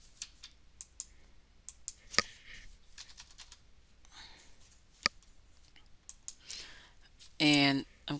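Computer mouse and keyboard clicks while copying code, with sharp, isolated, close clicks scattered across the stretch and a brief louder burst near the end.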